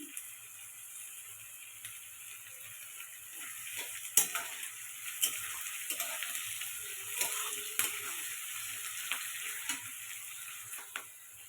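Soft, steady sizzling of chopped ginger frying in a pan for fried rice, with occasional light clicks and scrapes of stirring.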